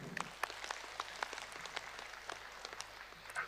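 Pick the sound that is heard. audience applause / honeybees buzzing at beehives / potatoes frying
audience applause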